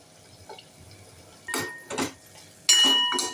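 A ladle clinks and scrapes in a pot of cashew curry with skin-on chopped potato, giving a few separate metallic knocks and scrapes that grow sharper toward the end, close and clear with no talk.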